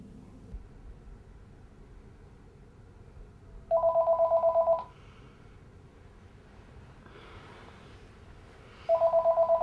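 A telephone rings in a movie scene, two bursts of a steady electronic trill several seconds apart over a low background hum, fairly loud and close, with no speech.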